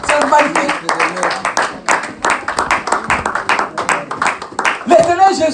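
A church congregation claps in steady rhythm during a worship service, loud and close, with voices singing or calling out over the repeated handclaps throughout.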